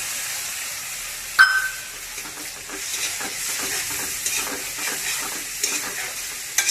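Ginger-garlic paste fries in hot oil with a steady, close sizzle and hiss, broken near the start by a sharp clatter as it is stirred, then a few softer scrapes; no one speaks.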